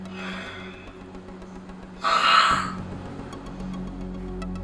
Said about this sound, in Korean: 심한 코골이는 물론 수면 무호흡증도 보였습니다.